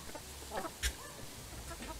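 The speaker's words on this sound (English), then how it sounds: "I have a feeling that's the rooster." A rooster on a small farm lets out one short, fairly faint call over steady background noise, with no talking.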